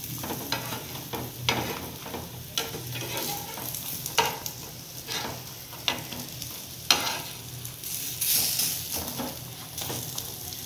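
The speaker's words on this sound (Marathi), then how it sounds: "आपल्याला अजून चांगले फ्राय करून द्यायचे." Crispy eggplant slices shallow-frying in a pan give a steady, close broadband sizzle, broken every second or so by sharp scraping and clacking as the slices are stirred and turned.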